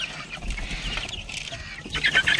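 Chickens cluck and chatter close by in a farmyard coop, hungry and waiting to be fed, a busy overlapping flock sound with a few brighter calls near the end.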